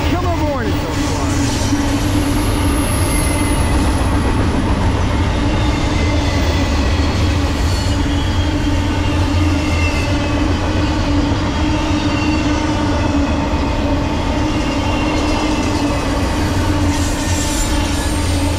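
Norfolk Southern freight train 261 rolls steadily past at close range behind AC44C6M locomotives, a loud continuous rumble of engines and wheels with squealing and clatter throughout, and no pause in the noise.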